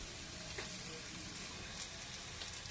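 Soybean chowmein stir-frying in oil in a pan, a steady close crackling sizzle with a few faint scrapes of stirring.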